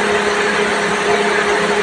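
A Toyota Corolla engine idles steadily as it warms up, giving a low, even hum with a faint vibration that stays close and unchanging.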